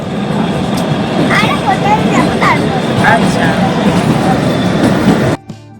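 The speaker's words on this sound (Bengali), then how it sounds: "এই সিমলা স্টেশনে এসে পৌঁছলো ট্রেনটা" A toy train's rumbling rattle as it arrives at Shimla station, with voices talking over it, then the noise cuts off abruptly near the end.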